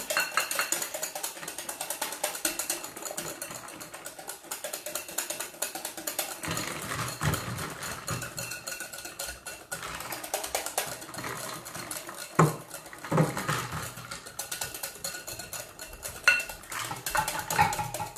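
A whisk scrapes and clinks steadily against a steel bowl as a thickening mixture is beaten, a continuous rapid metallic stirring that runs throughout with a few sharper knocks.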